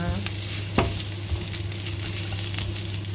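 Onion sautés in a pan with a steady close sizzle and a couple of sharp utensil clicks, no voices over it.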